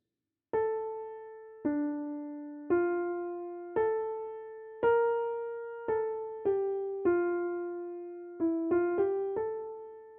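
Bach's Art of Fugue theme sounds in inversion, a lone melody of roughly twelve distinct, ringing notes with smooth decays, moving at a calm even pace with no other sound.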